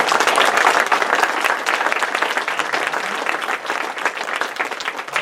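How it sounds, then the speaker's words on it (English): A conference audience at a product management talk gives a loud, full round of applause, with dense clapping that holds steady for several seconds. "let's give Rich a great round of applause"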